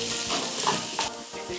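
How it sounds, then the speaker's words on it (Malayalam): Ground paste being stirred into a sizzling pan of chundal, a steady loud frying hiss with scraping stir strokes running throughout. "നന്നായി ഇളക്കുക."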